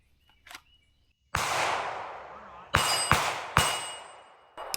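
Beretta 92 Elite pistol fired at steel plates on a shooting range: four loud, sharp, close reports, each with a ringing metallic tail, after a faint earlier pop.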